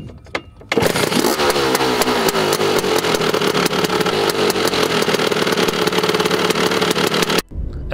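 A Stella LML Vespa PX 150 scooter fitted with a Malossi 221cc kit and a Pinasco Touring box exhaust starts up and runs loud and steady on a track, its buzzing engine note close and continuous before cutting off near the end.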